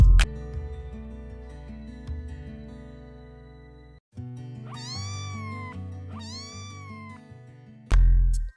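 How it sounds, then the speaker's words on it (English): Two clear meows from a cartoon cat in a children's alphabet rhyme, each a rising-falling cry near 5 and 6.5 seconds, heard over a steady musical backing, with a sharp accent at the start and end. "C for cat."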